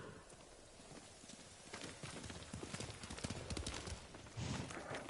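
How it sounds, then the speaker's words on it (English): Horse hooves in the video game Ghost of Tsushima clip-clop steadily on hard ground in a brisk trotting rhythm, close and continuous, with a faint background wash. "Horse"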